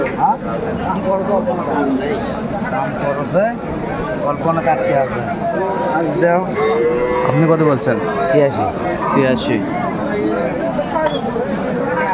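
Cows moo loudly and repeatedly amid a busy crowd at a cattle market, with people chattering close by throughout.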